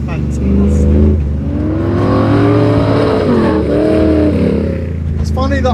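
A stock Jeep Wrangler engine drones steadily while driving off-road on a rough trail, its pitch rising and falling gently, with someone talking over it throughout.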